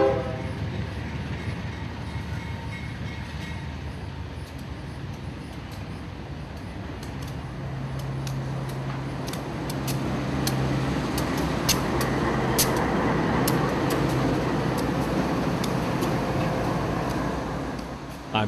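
A freight train hauled by diesel locomotives rolls past on the S-Line near Tampa, a loud continuous rumble of wheels and cars with rhythmic clicking and a brief horn tone partway through.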